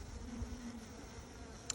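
Honeybees buzzing around an open Flow Hive during frame adjustments, a soft steady hum with a brief sharper buzz near the end, quiet and close.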